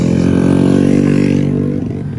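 A Honda Astrea Grand motorcycle with a DSM exhaust and PE28 carburettor runs loud and close, a steady throbbing engine note that drops away slightly near the end.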